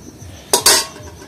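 A metal pot is set down and a metal lid clinks shut over it, two sharp close clanks in quick succession, while dal-filled pitha steam for Makar Sankranti.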